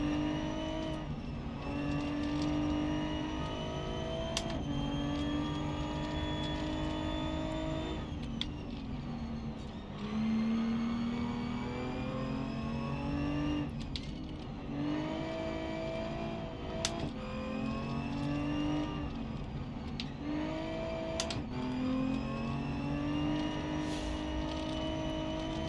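Race car engine in BeamNG climbing Pikes Peak, revving hard and shifting repeatedly, the pitch rising and dropping through gear changes and corner lifts, loud and continuous throughout.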